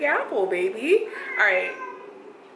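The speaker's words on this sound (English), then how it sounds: "and that's my cat." A pet cat gives a couple of short, close meows in a quiet room while a person speaks softly nearby.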